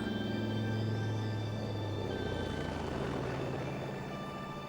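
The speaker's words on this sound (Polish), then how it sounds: "Na Florydzie codziennie rusza do walki cała eskadra samolotów." Steady droning roar of aircraft engines passing overhead in Florida, loud and continuous, fading slightly toward the end.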